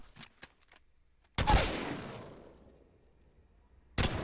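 Mastiff shotgun fired in Apex Legends: a few faint clicks, then one loud close blast at about 1.4 seconds with a long fading tail, and a second sharp blast begins right at the end.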